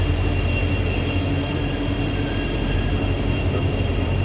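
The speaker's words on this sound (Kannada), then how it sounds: "ನಮ್ಮ ವಾಸ್ಕೋ ಡಿ ಗಾಮ ಟ್ರೈನ್ ಬಂತು ನೋಡಿ." Train 17309, the Vasco da Gama passenger train, rolls into Davangere station with a loud, continuous rumble of wheels on rail and a thin steady squeal, passing close by.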